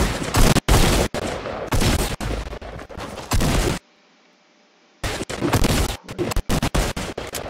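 Gunfire in the PC video game Fortnite, loud rapid bursts of shots and automatic fire that stop for about a second of near silence, then resume in choppy volleys.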